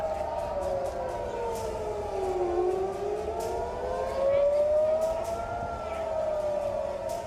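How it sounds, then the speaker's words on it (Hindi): A wailing air raid siren in Israel after a rocket attack slowly rises and falls in pitch, steady and fairly distant, over faint background noise. "हमले के ठीक बाद इजराइल में जंग का सायरन बजने लगा।"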